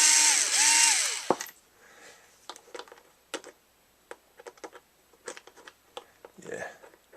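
Last screws being backed out of the bottom casing of a Schumacher DSR ProSeries PSJ-2212 jump box, a high whir at the start followed by scattered small clicks and ticks of the screwdriver and screws, close and fairly quiet.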